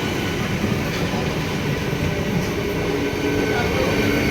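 An empty local passenger train rumbles past nearby in a steady, broadband roar with faint rattling, continuous for the whole stretch.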